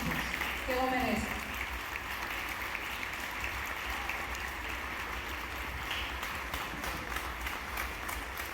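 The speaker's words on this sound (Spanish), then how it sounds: "Así les pido un gran aplauso para Daira Acosta, Anabel Gariar, Mario Canés, Juanma y sus equipos" A crowd at an anniversary gala applauds the organising team, a steady, fairly faint wash of clapping that runs the whole stretch with some voices mixed underneath.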